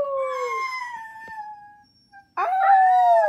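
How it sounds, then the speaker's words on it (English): A dog's howls rise and glide in long tonal wails, a sustained howl fading out, a brief pause, then a louder, wavering howl resuming close by. "she's gonna howl like a cutie"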